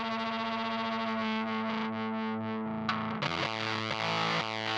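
Electric guitar through a fuzz pedal with sustain, attack and volume all the way up, a thick buzzing held note that swells and shifts, then a fresh fuzzy chord rings on, loud and alone.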